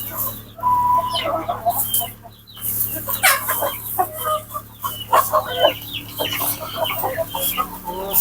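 Andijan black chickens and roosters on a farm in Namangan cluck and call continuously at close range, with overlapping bird calls and a steady low background hum, no talking.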